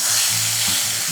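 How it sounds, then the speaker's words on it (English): Patted-dry butterflied meat sizzles loudly in a preheated pan, a dense continuous frying crackle heard up close with no talk. "Should sizzle when it goes in."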